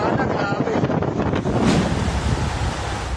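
Steady, roaring wind with rain buffets the microphone with a broad rushing noise that carries on throughout, a strong storm gusting outdoors in Quezon City.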